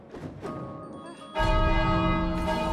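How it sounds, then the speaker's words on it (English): A bell in the video game It Takes Two rings out in a loud, resonant clang partway through that sustains and rings on. Softer percussive knocks come before it, and nobody speaks. "you can ring that bell"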